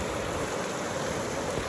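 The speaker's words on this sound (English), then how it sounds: "I'm at the waterfall again." Waterfall pouring steadily on a rainy hiking trail, a dense continuous rush of falling water heard up close with no voices.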